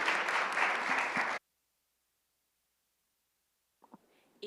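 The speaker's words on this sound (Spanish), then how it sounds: "vamos entonces a despedir con un gran aplauso a los 4 participantes" Applause from a seminar audience on labour migration in Latin America, sending off four panelists: a dense, steady burst of clapping for over a second that cuts off abruptly, followed by silence and faint sounds.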